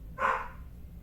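A single dog bark sounds once, fairly loud and close, and then fades into quiet room tone.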